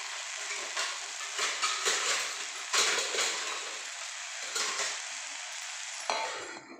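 Eggplant curry frying in a pan over low heat, a steady close sizzle with repeated bursts of stirring and crackle throughout, no voices.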